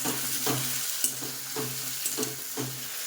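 Potato chachchari fries with dry chilli and five-spice in a pan, a soft continuous sizzle broken by regular scraping stirs about every half second, fairly quiet with no talking.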